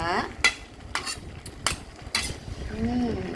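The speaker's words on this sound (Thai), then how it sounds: "ใส่กุ้งไปแบบจุกๆเลยนะคะเพื่อนๆจ๋า" A heap of shrimp drops into a hot pan, with soft sizzling under a few sharp metallic scrapes and clinks of a utensil stirring, close and moderate in volume.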